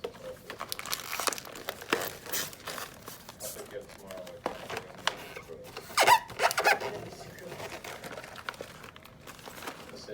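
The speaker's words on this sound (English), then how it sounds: "I'm just closing the chip bags like so." Plastic chip bags crinkle and rustle while being folded and sealed shut for party favors, in irregular close bursts of crackling with a few louder crunches near the end, heard under someone talking.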